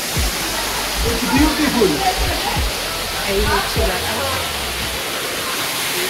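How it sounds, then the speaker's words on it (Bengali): A waterfall near the caves of Meghalaya roars as a constant, dense wash of water noise, with a voice briefly speaking over it and a few soft low thuds. "প্রচন্ড জলের আওয়াজ। এখানে হচ্ছে ঝর্ণা আছে"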